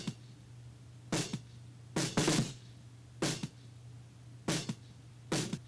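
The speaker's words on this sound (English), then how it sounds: "I don't know why I made the decision to make the snare bottom sound like this." Snare drum picked up by a snare-bottom microphone in a 2015 song recording, bright hissy hits with rattling snare-wire wash recurring at irregular intervals over a low hum.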